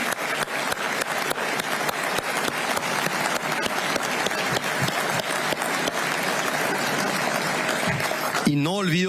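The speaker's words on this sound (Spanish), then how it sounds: "Frente a este Congreso, le decimos gracias y le aplaudimos." A legislative chamber in Paraguay's Congress fills with sustained, dense applause from a large crowd, steady throughout, before a voice begins speaking at the very end.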